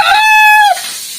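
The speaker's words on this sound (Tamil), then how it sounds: "இப்போ இந்த கோழிக்கும் அந்த குட்டி கோழிக்கும் சண்டை" A hen gives a single loud, drawn-out squawk that rises and then falls away. It comes from a caged hen squabbling with a younger chicken, is heard close up without talk, and ends abruptly before a quiet tail.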